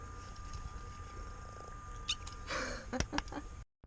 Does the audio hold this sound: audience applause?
no